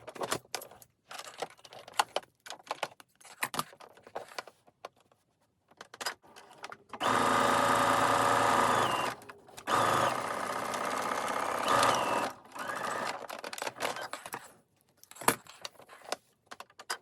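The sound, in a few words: sewing machine stitching lines in a can cozy lining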